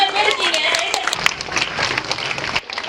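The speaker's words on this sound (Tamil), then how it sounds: "கைத்தட்டுங்க" An audience at a Tamil public gathering applauds in a dense, steady burst of clapping lasting a few seconds, with voices mixed into the crowd noise.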